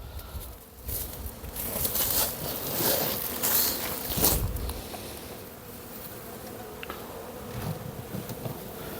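Carniolan honeybees buzz in a steady, dense hum around hives in an apiary, close and continuous, with a few louder flybys passing near and no talk.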